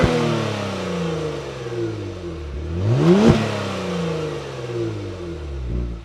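A 2021 Genesis G70 Sport with quad tips and sports exhaust revs hard, engine note climbing to a loud peak near the tail, then dropping away and settling back toward idle, close up with no talking.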